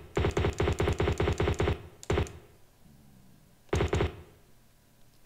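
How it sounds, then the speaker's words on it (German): Gunfire from the Tomb Raider II video game: a rapid burst of about a dozen sharp shots, then a single shot, a pause and a short final burst. "Jetzt knallen wir nochmal die beiden Typen da unten ab"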